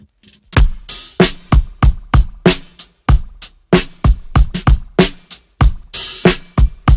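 A recorded drum break played back from a tape machine at 7.5 IPS, punchy kick, snare and hi-hat hits in a steady looping groove, loud and close with no talking.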